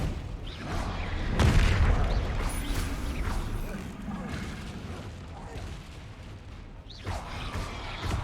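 Descendo spell slamming down in the game Hogwarts Legacy, a heavy crashing impact with rumbling debris, followed by further thuds and clatter, partly under a voice.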